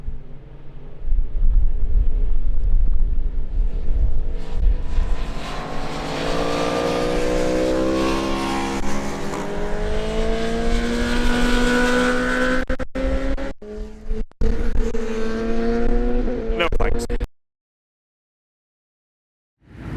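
Cars lapping Silverstone Grand Prix Circuit on a snowy track day, engines droning loud and close with rising revs and wind buffeting the microphone, then cutting to silence near the end.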